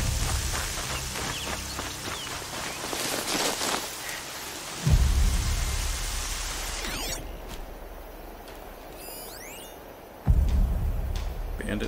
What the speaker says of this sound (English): More rain.